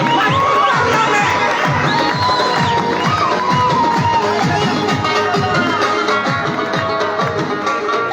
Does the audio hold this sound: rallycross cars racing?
no